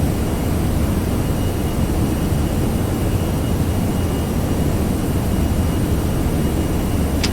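Airliner jet engines at climb thrust in an Aerosoft flight simulator game, a loud, steady, broadband roar with deep low rumble, unbroken throughout.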